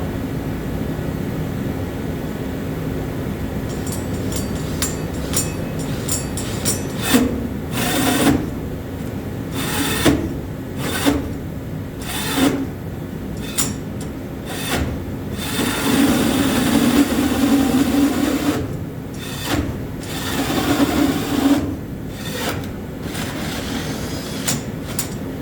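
A power drill whirs in repeated bursts during bathroom plumbing work. It starts and stops in short runs, with a longer sustained stretch in the middle, all close and fairly loud.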